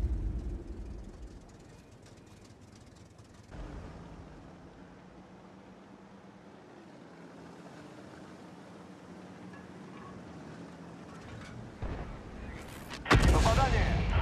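Tank cannon fire in a video game: a low rumbling, muffled battle backdrop with a sharp, loud blast bursting out near the end.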